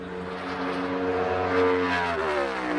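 A Front Row Motorsports NASCAR stock car at wide-open throttle through the bump off turn 2 during practice for the 2022 Goodyear 400, a loud, sustained engine drone whose pitch climbs steadily.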